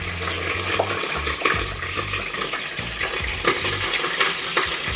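Tomato, onion and scallion sizzle in a hot pan while a utensil repeatedly scrapes and stirs them, producing close, busy frying crackle with irregular knocks against the pan.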